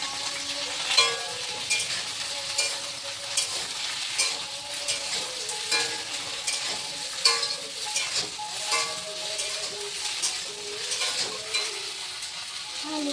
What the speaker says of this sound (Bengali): আলুটা সেদ্ধ হয়ে গেছে, ওটা ভাজা হচ্ছে